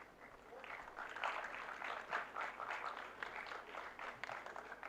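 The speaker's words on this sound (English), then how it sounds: "So thank you very much for the applaud." An audience at a food processing startup event claps in faint, distant applause that stays steady for several seconds.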